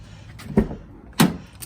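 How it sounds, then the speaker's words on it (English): Car door on a Monte Carlo SS, two sharp mechanical clunks about half a second apart, the latch pop followed by the door opening, close and loud. "let's go and pop this door open"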